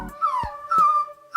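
A small dog whimpers in thin, high, wavering whines, three drawn-out cries with short breaks, close and clear with no talking.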